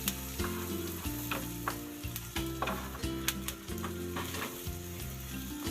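Onions fry in hot oil in an iron pan, giving a continuous crackling sizzle. Intermittent scraping stir strokes cut through it, with no voices.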